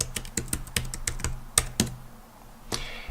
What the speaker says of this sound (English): the keyboard is, it can be loud, but nothing too intrusive